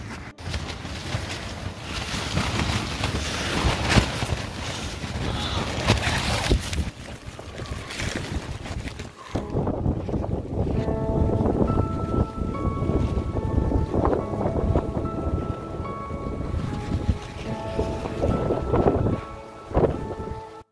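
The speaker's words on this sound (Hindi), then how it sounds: "बड़ी तेज हवा चल रही है अपने आप।" Strong wind roars across a mountain campsite on the Hampta Pass trek, loud and gusty, rumbling like thunder and buffeting the mic continuously, with a brief lull near the middle.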